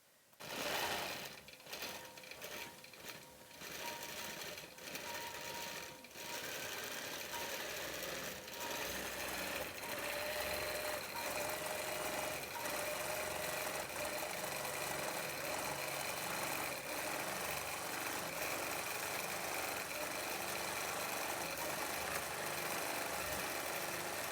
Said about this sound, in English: so I won't confuse my machine, so it will know exactly where to sew